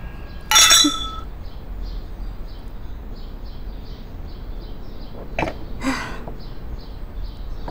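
Drinking glasses clink together in a toast at a social gathering, one sharp chime near the start and a second, lighter clink later over a quiet room with faint background noise.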